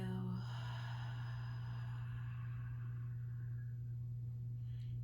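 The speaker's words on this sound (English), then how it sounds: "Continue breathing belly, chest, and exhale." A long, slow breath released during a guided breathwork session, heard close up as a soft airy sigh that gradually fades over a low steady hum.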